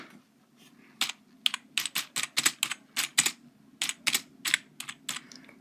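Quick, uneven bursts of keystrokes on a computer keyboard being tested, crisp and close, clattering alone in a quiet room with short pauses between clusters of taps.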